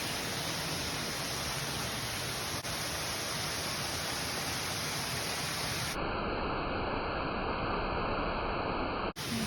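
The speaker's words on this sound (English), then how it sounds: "Waterfall, but" A waterfall at Pictured Rocks roars as a dense, steady, loud rush of falling water that fills the whole stretch with no other sounds.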